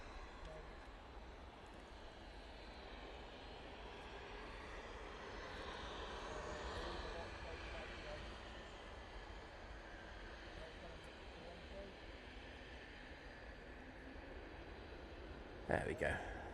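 Airliner landing on the runway at Manchester Airport, a steady distant engine roar with broadband rumble that swells slightly mid-clip and stays fairly even, with a brief knock near the end.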